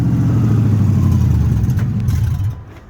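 A Ford F150 5.4 4x4 pickup engine runs close by with a droning whine from a bad transmission under it, then the noise drops off sharply near the end as the engine eases down.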